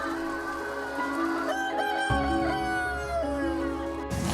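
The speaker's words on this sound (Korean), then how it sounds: "자루에 담기기 직전 살려고 몸부림치는 닭들" Chickens on a welfare farm clucking and squawking as they struggle before being bagged for culling, with a rooster-like crowing call running through the loud, close flock noise.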